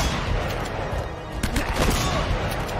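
Shotgun blasts and gunfire in a firefight in the video game Uncharted: Drake's Fortune, dense and continuous with a few sharper reports standing out over a constant noisy battle backdrop.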